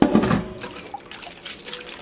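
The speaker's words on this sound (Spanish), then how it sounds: "agarré tantita agua del galón y le puse aquí" Water from a jug poured over tamarind pulp in a container: a brief splash at the start, then soft trickling and dripping sounds fading out, fairly quiet.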